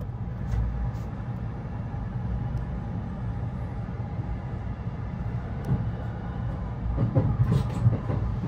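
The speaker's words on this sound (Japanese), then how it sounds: "この土浦駅から時は83号土浦止まりの電車が停車をしております。" A Joban Line train terminating at Tsuchiura sits stopped at Tsuchiura station, giving a steady low idling rumble with a few faint clanks and a busier stir near the end.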